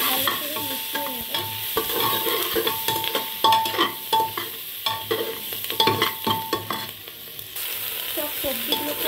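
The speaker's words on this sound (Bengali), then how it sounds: "এবার আমি ভালো করে মিশিয়ে নেব।" Kashmiri red chili powder and curry leaves get stirred into vegetables frying in a pan, with repeated scraping spoon strokes over a constant close sizzle and no talk.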